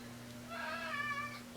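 A pet cat meows once in a rising, drawn-out call lasting about a second, heard fairly clearly and close over a steady low electrical hum, with no one talking.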